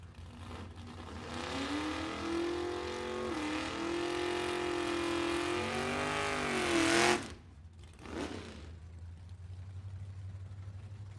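Drag racing cars launch down the quarter-mile strip at the 47th U.S. Bracket Nationals, a loud, steady engine roar holding and rising for about seven seconds before cutting off abruptly, followed by a short second burst and a low background rumble.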